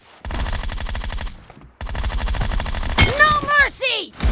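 Rapid automatic gunfire from a video game rattles on in dense bursts, breaks off briefly, then resumes, with an excited voice calling out over the last shots.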